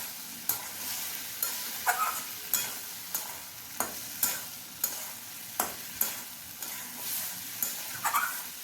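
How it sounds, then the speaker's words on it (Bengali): Fried potato and green plantain pieces are stirred into masala in a pan, each spatula scrape landing as a sharp scraping stroke about every half second over a low, steady sizzle. "দেওয়ার পরে এখন এটাকে মশলার সাথে খুব ভালোভাবে নাড়াচাড়া করে কষিয়ে নেব"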